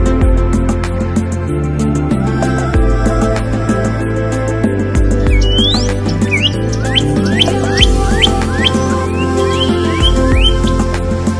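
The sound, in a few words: birds chirping near their nest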